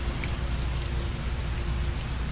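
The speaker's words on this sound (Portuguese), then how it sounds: "Chuva forte. Há semanas que não passa disto." Heavy rain in the video game Heavy Rain, a loud, dense, steady downpour with a low rumble beneath and no voices.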